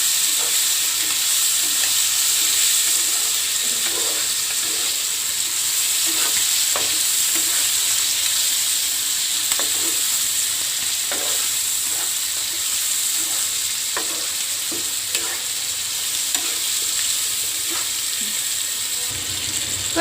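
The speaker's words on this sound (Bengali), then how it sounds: "মাছগুলো এখন আমি এখানে দিয়ে দিচ্ছি। মাছগুলো দিয়ে একটু ভালো করে" Tangra fish frying in a pan, with a steady loud hiss of sizzling oil under repeated scraping strokes of a spatula as the fish are stirred, continuing throughout.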